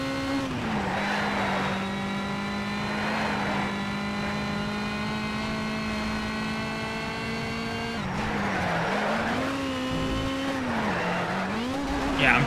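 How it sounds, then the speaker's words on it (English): Car in the racing game Need for Speed: Shift on PS3, drifting on a handbrake pull: a steady engine drone that holds, then dips and wavers with revving as tires scrub, heard alone without talk. "I pulled the handbrake a little bit, if that wasn't obvious. Kind of hoping to, like, drift it."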